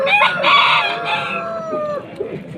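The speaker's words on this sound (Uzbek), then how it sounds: "4 ta makon, bitta xo'roz ekan mana." A rooster gives a loud, close cock-a-doodle-doo crow at a bird market in Namangan, the drawn-out call tapering off over about two seconds, followed by faint clucking and market murmur.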